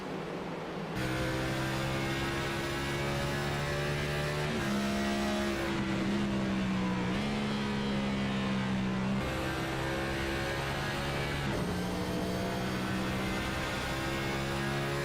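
An onboard race car engine roars loudly through a lap at Phoenix Raceway in a Cup Series finale, holding a steady high drone broken by several sharp gear shifts, with no voices.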